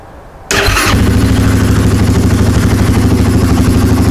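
A 2023 Yamaha Grizzly 700 ATV engine with a racing fuel controller cranks and catches after a moment of quiet, then settles into a loud, steady, throbbing idle up close.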